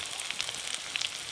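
Ground spices, including chili powder and turmeric, fry in a pan over onion and garlic for a Bengali crab curry. The steady close sizzle has scattered small pops and crackles, with no voices.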